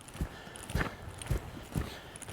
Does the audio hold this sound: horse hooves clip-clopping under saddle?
yes